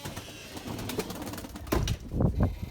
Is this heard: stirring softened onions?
no